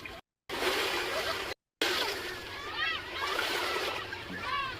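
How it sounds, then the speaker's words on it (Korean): Ocean waves from an AI-generated Kling seaside video, a steady loud wash of surf and splashing interrupted by two brief gaps, with high gull-like calls rising over it. "이건 파도 소리도 커졌고"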